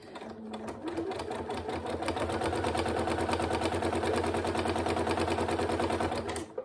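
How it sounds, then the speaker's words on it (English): A sewing machine stitches a zipped pencil case in a fast, even mechanical rattle that holds steady and close for several seconds before stopping. "So I'm back at my straight stitch again, needle up, turn around and back down."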